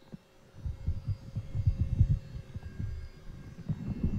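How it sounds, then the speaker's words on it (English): Heartbeat sound effect in the VR horror game Chained, a Christmas tale: soft, low, muffled thumps in a slow irregular rhythm over a faint steady hum, with no voices. "We will share but a single heartbeat together."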